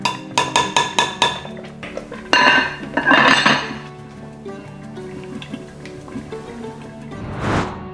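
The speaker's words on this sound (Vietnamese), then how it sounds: "Bây giờ tôi hạ lửa thật là nhỏ, đậy vung lại." Metal clinks several times in quick succession, then a lid clatters onto a pot of rice porridge set on very low heat, followed by quieter kitchen rattles and a soft hiss.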